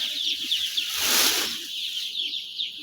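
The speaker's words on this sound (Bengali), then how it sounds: "মুরগি বাচ্চাগুলো এই পাশে হচ্ছে চাপতেছে বেশি" Three-day-old broiler chicks in a brooding shed holding fourteen thousand birds chirp in a dense, high, continuous chorus, with a brief rushing swell in the middle.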